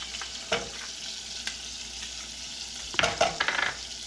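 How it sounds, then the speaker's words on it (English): Crushed garlic frying in heated butter in a pan makes a steady hiss with sharp crackles and a burst of stirring scrapes near the end. "We're going to go ahead and throw in the last of our crushed garlic."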